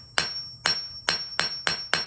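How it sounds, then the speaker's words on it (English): A hammer strikes shrink plastic jewelry six times at a steady, unhurried rhythm, each blow a sharp, close tap that rings briefly. No voices are heard. "not choking my hammer, holding it at the end, hammering a swing of about"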